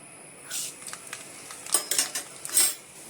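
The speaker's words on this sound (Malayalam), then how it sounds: "കടുകിട്ട് കൊടുക്കാം." Mustard seeds dropped into a hot pan for tempering a rasam, giving several short bursts of crackling sizzle and light metallic clatter, moderately close and without talk.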